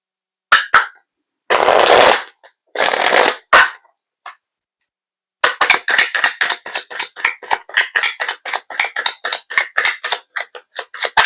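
Steampunk tarot cards being shuffled: a few short papery bursts, then a quick run of crisp, evenly spaced flicks as the cards riffle through, close and fairly loud with no voices.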